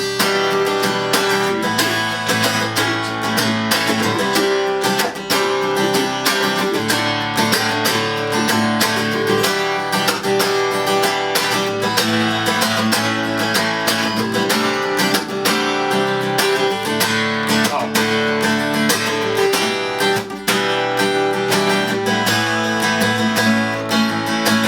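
Guitar plays a song over a full band mix with drums, a dense, steady rhythmic strumming pattern that stays loud and continuous throughout.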